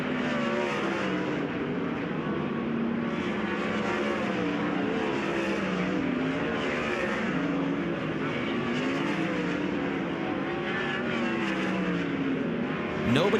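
Kubota High Limit sprint cars on a hot lap session at Perris Auto Speedway make a continuous, loud engine roar with rising and falling pitch as cars circle the track.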